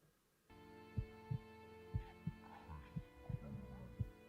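A reverb-drenched heartbeat sound effect for a short film thumps at a steady pace of roughly one beat per second over a constant low hum, each beat booming and trailing off.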